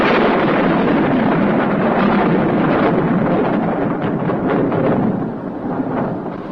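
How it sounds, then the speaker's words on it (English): A broadband rumbling roar of an approaching thunderstorm, loud and continuous with rolling low energy throughout, easing slightly near the end; no speech. "the storm's definitely on its way now, Jim."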